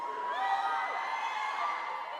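A large crowd at a PAX West convention panel cheering and whooping in one continuous wash of voices, steady and fairly loud with individual shrill yells rising above it.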